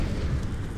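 A grenade explodes in Counter-Strike 2 during a pro match, a short, muffled boom with a low rumbling body, brief and fairly faint.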